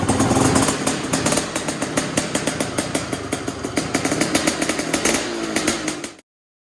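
A Honda CR500 dirt bike engine runs loud and close, its rapid two-stroke firing pulses steady with small throttle swells throughout, then cutting off abruptly near the end.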